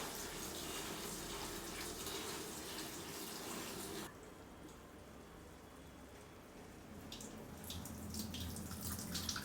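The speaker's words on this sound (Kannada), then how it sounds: "ಈಗ ಫಸ್ಟ್ ಎಲ್ಲನೂ ನಾವು ಮಂಡಕ್ಕಿನ ಚೆನ್ನಾಗಿ ತೊಳ್ಕೊಂಬಿಡ್ಬೇಕು" Puffed rice (mandakki) is washed in water, a steady close splashing and pouring that abruptly drops to quieter sloshing and dripping partway through, with no talk.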